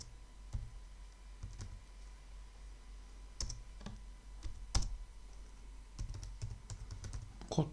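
Code being typed on a computer keyboard: quiet, irregular key clicks and taps in short bursts with pauses, close but soft, no voice over them.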